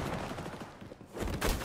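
Dense rapid gunfire from an MP7 in the shooter game XDefiant, a loud burst of shots that dips briefly before a second heavy volley.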